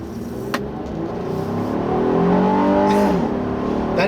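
A 2017 Honda Ridgeline's V6 engine revs up under hard acceleration, a steady, loud drone with rising harmonic sweeps as the VTEC stage kicks in midway, close and continuous with no talking.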